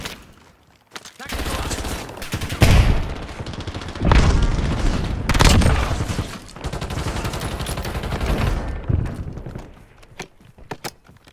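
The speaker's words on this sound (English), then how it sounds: "Taking effective fire." Dense bursts of video game gunfire from a squad-based shooter, with rapid automatic volleys and heavy booms layered over one another, loud and continuous with brief lulls, fading out near the end.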